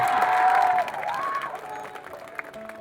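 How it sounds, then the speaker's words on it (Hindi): Audience at a Class 10 school farewell celebration applauding themselves, a short burst of crowd clapping with some cheering that eases off quickly. "एक बार जोरदार ताली अपने लिए"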